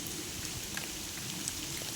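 Steady light drizzle falling through a long rainy day, with a monsoon-swollen river flooding up into a courtyard; an even, continuous hiss of rain with a few soft drop ticks, no voices.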